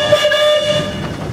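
A 1906 Russell steam engine at a parade blows its whistle in one sustained, loud, steady chord-like tone that holds for the whole moment.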